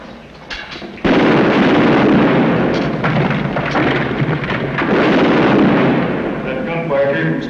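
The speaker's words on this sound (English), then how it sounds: "That gunfire came from straight ahead." Heavy rumbling booms of Civil War gunfire roll continuously, echoing from a distance, dense and sustained with no voices.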